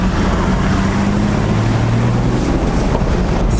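Straight-piped 3-inch exhaust on a 1HDT Landcruiser turbo diesel, a steady, loud low rumble with a droning tone that holds throughout, heavy wind buffeting over it and no talking.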